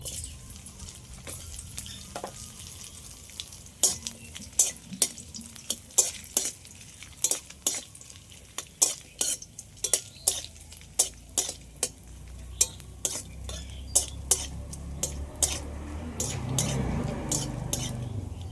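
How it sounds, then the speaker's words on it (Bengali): Sliced coconut frying in a pan after curry leaves, with a spatula scraping and clinking against the metal in irregular sharp taps over a soft sizzle, no talking. "অল্প করে নারকেল এরকম স্লাইস করে কেটে নিয়েছি, এগুলো একটু ভেজে নেব।"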